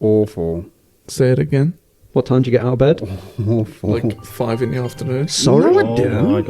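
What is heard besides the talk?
No everyday noises stand out.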